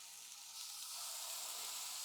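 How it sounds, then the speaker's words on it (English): Two pieces of salmon fillet sizzle on a Ninja Foodi indoor griddle with no oil, a steady, faint hiss that swells slightly after half a second and continues evenly. "You can already hear it sizzling."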